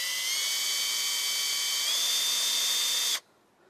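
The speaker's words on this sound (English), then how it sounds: "So we're going to drill the 1/8 inch hole." A power drill bores a 1/8 inch bleed hole in the pipe of a Bison deep well hand water pump, giving a steady, loud, high-pitched whine for about three seconds that rises slightly in pitch before cutting off abruptly.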